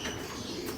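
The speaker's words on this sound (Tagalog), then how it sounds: "gusto na lumabas ng ating mga alagang kalapati, mga kalapatids" Pet pigeons in a home loft aviary make a steady, close, low cooing murmur with faint rustling and a light mechanical clatter, continuous through the short moment, with no talking.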